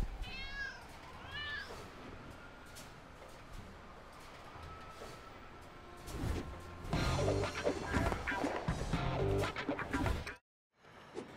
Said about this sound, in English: And there's our second cat, the Auburn cat.